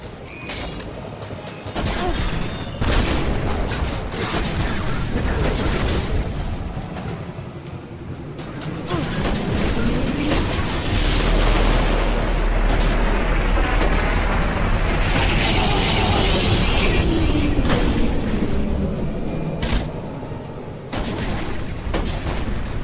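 Heavy weapon fire and explosions in the Destiny video game Red War campaign, with repeated sharp blasts and crashing booms layered over a continuous dense rumble of combat and mechanical effects, loud throughout.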